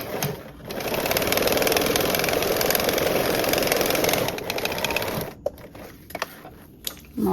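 A sewing machine runs steadily for about four and a half seconds, stitching a quarter-inch seam with long thread tails on a duffle bag, then stops, leaving a few soft clicks.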